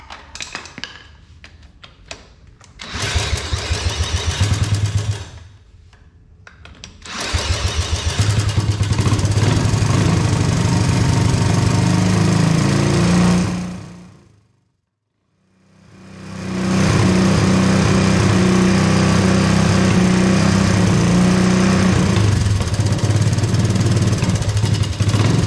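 Honda ATC three-wheeler's engine cranks briefly, fires up and settles into a loud, steady idle close by, cutting out for a moment midway before restarting and idling on.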